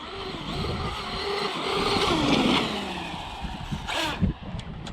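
A Traxxas UDR RC truck driving on the Diamond Dust track: a nearby motor whine rises and swells, tires skid and scrabble, then a sharp burst of dirt and slide near the end.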